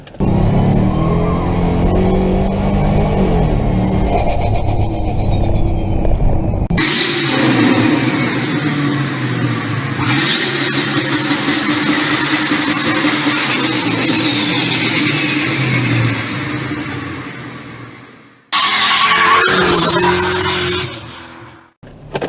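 A turbocharged Mercedes E55 AMG V8 roars loud and close, revving hard with tire squeal and skidding, breaking off abruptly in a few places across the run.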